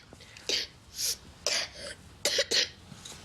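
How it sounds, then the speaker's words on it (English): A young girl with a persistent cough coughs in a series of short harsh bursts, roughly five or six spaced fits, close and clear with quiet breathing between. "You've got a bit of a cough, haven't you?"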